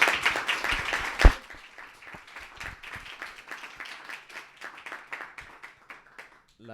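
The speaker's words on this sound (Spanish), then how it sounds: "Les pido nuevamente un fuerte aplauso para los 3 expositores" Applause from an audience for three presenters at a talk, starting with a burst of close, loud claps and one sharp clap, then thinning into softer, uneven clapping that fades out.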